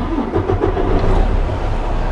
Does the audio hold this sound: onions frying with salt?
no